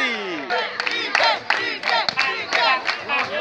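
Crowd cheers and shouts from supporters at a footvolley quarterfinal match in Itabaianinha, Sergipe, rising in repeated loud bursts with no break.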